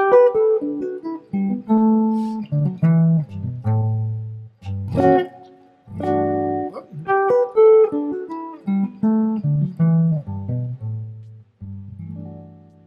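Clean guitar notes run backwards through a hexatonic scale in short melodic phrases, each note plucked distinctly with brief pauses between groups.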